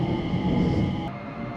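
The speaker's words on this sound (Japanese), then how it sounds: "221系の加速音が静かな構内に乗り" A JR 221 series electric train accelerates through a quiet station yard on the Tokaido Line near Otsu. A steady motor whine of layered tones sits over low rumbling running noise, easing slightly toward the end.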